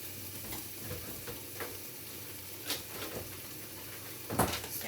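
Garlic cloves go into a hot home-kitchen pan, bringing a soft, continuous sizzle with a few scattered clicks and knocks of stirring, faint and with no talking.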